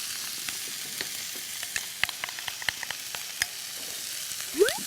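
Abalone innards fried rice is stir-fried over high heat in a pan, giving a quiet bed of sizzle dotted with irregular sharp crackles and pops, ending in a brief scrape, with no one talking.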